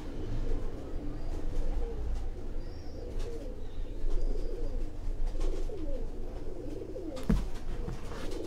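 Pigeons at a champion pigeon keeper's loft in Lahore coo softly and repeatedly in low, rolling murmurs, with faint background noise and a brief sharp knock near the end.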